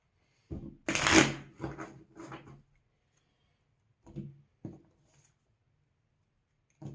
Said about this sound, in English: search my deck for a Fusion Strike energy card and attach it to those Pokemon and shuffle the deck